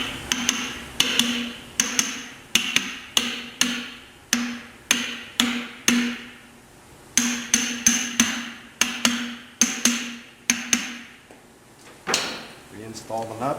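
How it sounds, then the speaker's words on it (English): A driven flange on a Sumo-X Fury clutch is tapped into place during installation, producing a near, regular series of sharp knocks in short bursts, with a few pauses between groups. "You may have to gently tap this in place"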